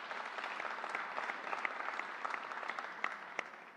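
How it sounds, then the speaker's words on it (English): Sustained applause from an audience at a COVID memorial event honoring the Northwell Health CEO, a dense steady wash of many hands clapping at a moderate distance with occasional sharper claps standing out. "Let's give him a round of applause."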